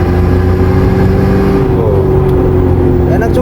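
The diesel engine of an Isuzu D-Max pickup runs and revs with a loud, continuous low rumble. The pitch shifts as it accelerates, and road and cabin noise sit close around it.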